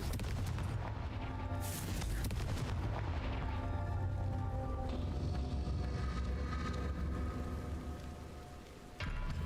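Confringo fire spell explosions in Hogwarts Legacy, dense crackling booms and rumbling blasts, continuous and loud, with a sharp burst near the start and another at the end.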